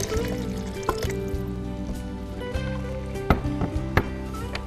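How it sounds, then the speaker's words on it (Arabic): A small amount of water, roughly half a cup, is poured into tomato sauce in a pan, giving soft trickling and dripping with a few sharper splashes over steady background music. "كمية بسيطة جداً من المي، تقريباً نص كوب"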